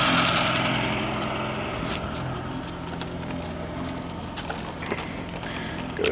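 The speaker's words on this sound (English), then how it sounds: "show you guys how good the motor runs. Back here, idling, pumping water good." Outboard motor on a 1989 Pro Craft pontoon boat idling at a lake, a steady low engine hum with light water patter, fairly close and continuous.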